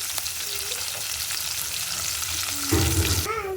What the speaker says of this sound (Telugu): ఎండుమిరకాయలు, పచ్చిమిర్చి, ఉల్లిపాయలు వేయించుకున్నాం.